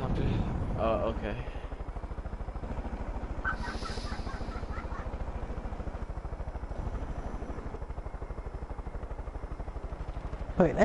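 Helicopter rotor noise in the video game Far Cry 5, a loud continuous pulsing thump with even rhythm throughout, with brief voices over it near the start and end.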